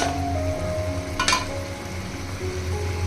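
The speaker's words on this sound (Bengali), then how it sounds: "দেখছেন তরকারিটা খুব সুন্দরভাবে ফুটে উঠছে" A Bengali shukto vegetable curry bubbles and sizzles steadily in a pan at close range, with a brief scrape of a utensil partway through and no talking.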